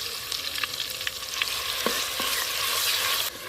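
Onion and garlic paste frying in oil, a bright, dense hiss and crackle close by with scattered spatters and a few spoon taps, steady throughout and with no speech.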